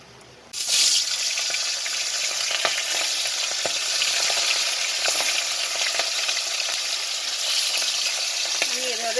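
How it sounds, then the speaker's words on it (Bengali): Hilsa fish pieces sizzle steadily in hot oil from a sudden loud start, a dense continuous crackle with occasional pops and stirring scrapes, close and alone without voices. "ইলিশ মাছ হালকা করে একটু ভেজে নেবো"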